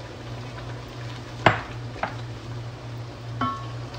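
Chicken biryani sauce with spices and fresh coriander simmering in a pot, a low steady bubbling hiss with a few sharp clinks of a utensil against the pot.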